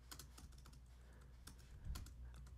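Quiet typing on a Mac computer keyboard, a quick irregular run of light key clicks with a slightly louder tap near the end, heard alone.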